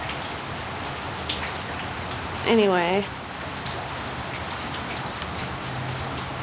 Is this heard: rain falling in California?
yes